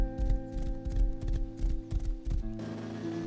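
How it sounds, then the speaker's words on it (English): Horse hooves in the video game Rust beat a quick, steady clip-clop rhythm for a few seconds. Then they give way to a different steady mechanical tone. "the horse with a top speed of 70 kilometers per hour"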